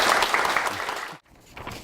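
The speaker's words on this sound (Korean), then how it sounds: "큰 박수로 환영해 주시기 바랍니다" An audience at a gathering claps to welcome a guest speaker. The applause is dense and steady, then breaks off abruptly and gives way to quieter room sound.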